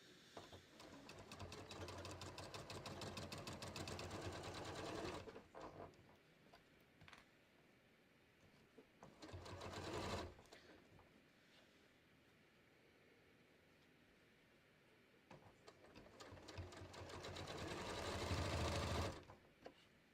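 A sewing machine stitching a collar with a collar stand, running in three bursts of rapid whirring and needle ticking, close and clear, separated by quieter stretches of handling and faint clicks.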